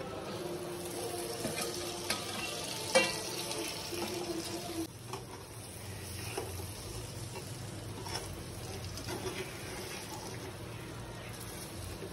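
Spiced meat stirred and frying in a pan, with a steady low sizzle and scraping under continuous background noise, a few soft clinks along the way.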